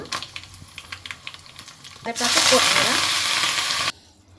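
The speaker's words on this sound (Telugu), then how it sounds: "ఇందులో జీలకర్ర ఆవాలు ఎండుమిర్చి అండ్ ఎల్లుల్లిపాయ అయితే వేసేసుకుందామండి" Cumin, mustard seeds, dried chillies and garlic hit hot oil for a tempering in mango dal, bursting into a loud, steady close sizzle for about two seconds after light kitchen clatter, then cutting off abruptly.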